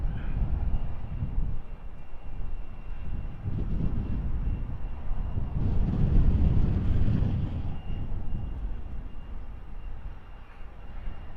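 A Wizz Air airliner arriving with a low, broad jet-engine roar that swells to a peak midway and then eases off, steady and fairly loud with no talking.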